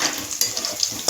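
A chilli-heavy tempering sizzles and crackles in a hot pan before amaranth greens go in, with a steady close frying hiss and a few sharper pops.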